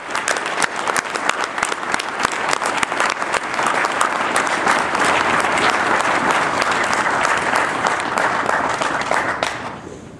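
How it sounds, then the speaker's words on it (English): Audience at a conference hall bursting into sustained applause, a dense wash of many hands clapping steadily for about ten seconds before tapering off, with no clear speech over it. "So please give him a round of applause."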